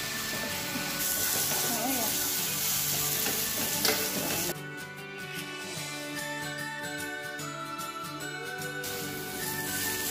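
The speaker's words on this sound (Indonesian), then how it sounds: "Bumbu-bumbu yang kita haluskan tadi kita tumis dengan sedikit minyak sampai" Oil sizzles steadily in a hot pan as ground spice paste fries for meatball soup broth, with stirring and light metallic clinks of a utensil against the pan.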